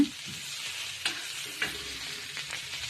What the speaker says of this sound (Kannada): ಇಲ್ಲಿ ನಾನು ಇದೇ ಟೊಮೆಟೊ ಜೊತೆಗೇ ಕರಿಬೇವು ಮತ್ತು ಕೊತ್ತಂಬರಿ ಸೊಪ್ಪನ್ನು ಹಾಕಿ ಒಂದು ಸ್ವಲ್ಪ ಆಯಿಲಲ್ಲಿ ಬಾಡಿಸ್ಕೊತೀನಿ